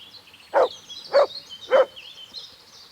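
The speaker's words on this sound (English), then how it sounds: "There's the good doggy." Three evenly spaced dog barks from the video game Kingdom Come: Deliverance, each short and moderately loud over a faint ambient background, with no talk.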